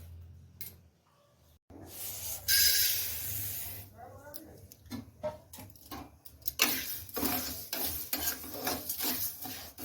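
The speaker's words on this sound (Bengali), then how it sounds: "প্রথমে আমি মুগ ডালটাকে শুকনো কড়াইতে আমি ভেজে নেব।" Mung dal being dry-roasted and stirred in a dry wok, with repeated scraping and rattling strokes of a spatula against the metal, mixed with brief clatters and some kitchen noise, close up and moderately loud.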